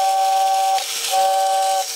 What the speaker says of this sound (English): So anytime you let the air pass through there, the whistle would be on.